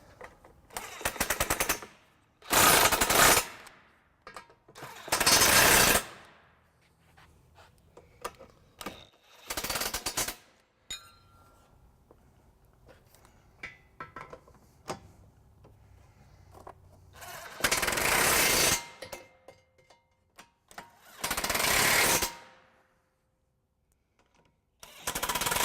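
A power tool drives and tightens the trailer hitch bolts on a 2012 Mini Cooper Countryman, loud broadband bursts repeating several times with quieter workshop clatter between them.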